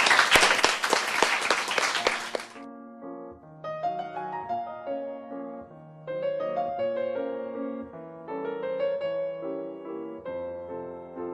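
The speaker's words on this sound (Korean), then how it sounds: "우리 다 같이 박수로 청해 듣도록 하겠습니다" A short burst of audience clapping at a literary reading event welcoming an author, dense and fairly loud for about two seconds before giving way to soft piano music.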